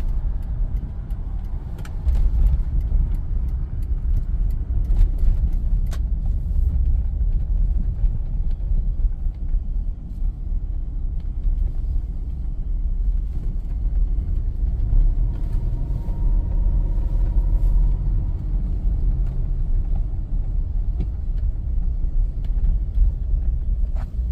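Lexus LX470 SUV, freshly restored, driving on the road: a steady low engine and road rumble heard from inside the cabin, continuous and fairly loud with no talking.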